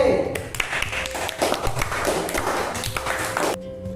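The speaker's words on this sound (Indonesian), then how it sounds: "silakan beri tepuk tangan untuk kelompok C" A classroom gives applause for a student group after a presentation on parallel electric circuits, a dense close burst of many hands clapping that holds steady for about three and a half seconds before stopping abruptly.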